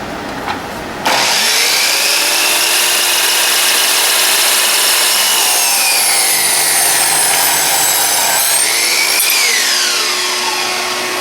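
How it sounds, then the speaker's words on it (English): A power saw makes an angled cut through a wooden piece for a hexagonal box. It starts with a brief burst, then cuts loudly and continuously for about ten seconds, with the pitch shifting slightly as the blade moves through the wood. "you need to turn your wood around in this orientation and then simply cut"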